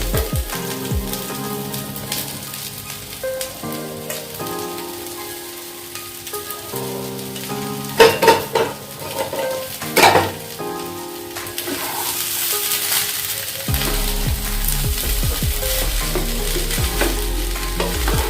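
Paneer pieces fry in a pan for navratan pulao, a steady rain-like sizzle with repeated stirring scrapes, growing into a louder, fuller crackle in the latter half.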